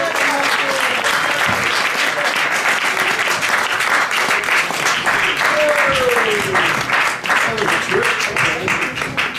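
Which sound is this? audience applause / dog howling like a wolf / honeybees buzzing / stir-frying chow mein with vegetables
audience applause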